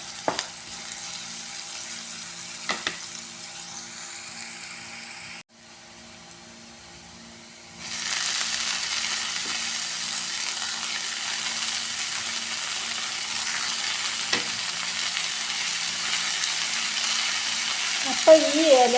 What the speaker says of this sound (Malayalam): അപ്പം നമ്മൾ ചട്ടി വെച്ച് വെളിച്ചെണ്ണ ഒഴിച്ച് നല്ല നാടൻ മഞ്ഞൾപ്പൊടി, ഉപ്പ്, ഉള്ളി ഇട്ട് വഴറ്റിയാണ്.